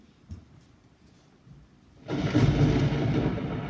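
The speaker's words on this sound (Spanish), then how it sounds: "¿Cuál es el ruido del rayo? El ruido del relámpago." Thunder from a lightning strike, played back from a video about natural phenomena, bursts in as a loud, sustained rumbling roar after a quiet stretch and continues to the end.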